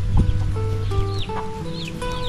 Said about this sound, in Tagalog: may mga alaga po silang ano, mga manok yan po may manok